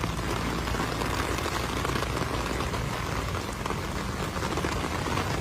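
Heavy rain pours down during a supertyphoon in flooded Marikina, a loud, dense, continuous hiss and roar that stays steady throughout with no voices.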